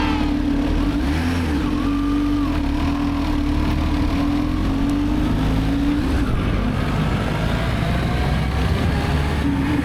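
A Kawasaki ZH2 motorcycle engine roars continuously and loudly, its pitch climbing and dipping as it revs and accelerates under hard throttle, close and dominant throughout.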